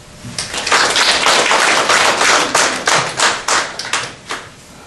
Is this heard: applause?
yes